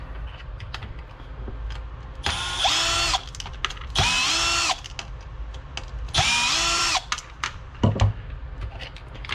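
Power drill backing screws out of the front body of a Traxxas Bandit RC car being converted to a Rustler, three separate whirring bursts of a couple of seconds each, close and loud, with small clicks and handling noises between them.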